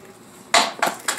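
An X-Acto knife cutting slits in a craft material, heard as three short, sharp scraping strokes close by with no voices.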